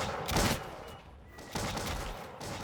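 Musket volleys crackle in Bannerlord's 1700-era Empires of Europe mod battle, two distinct bursts of gunfire about a second apart, moderately distant over a noisy backdrop.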